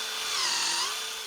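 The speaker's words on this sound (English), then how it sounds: "and I'm going to drill" A 3/8 inch spade bit bores into a wooden fence post for an H-brace, giving a steady, close whirring drone that holds evenly for about a second with no talk.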